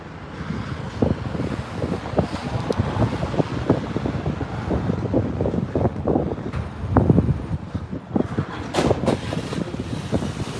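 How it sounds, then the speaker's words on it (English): Strong gusting wind buffets the microphone in continuous rough bursts, loud and close, with traffic rumbling faintly in the background, on a street in Akihabara, Tokyo. "Of course, it's windy as hell."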